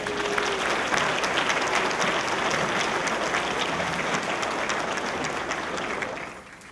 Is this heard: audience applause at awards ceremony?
yes